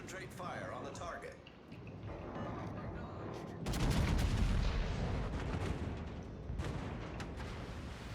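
Naval guns firing in a warship video game, a deep rumbling salvo swelling midway through a steady battle din, with booming reports and crackle close by.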